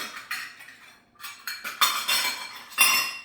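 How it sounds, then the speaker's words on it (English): Spices and ingredients tipped into a cooking pan with metal utensils, a series of close clinks, scrapes and rattles in short bursts, sharp and fairly loud against a quiet kitchen. "the instructions say to add all of our ingredients to the pan"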